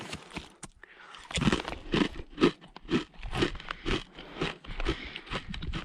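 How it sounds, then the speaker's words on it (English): Loud, close crunching of crisp Kettle spicy queso crinkle-cut potato chips, with quick bites and chewing in a steady, uneven rhythm. "You can listen to me crunch on chips"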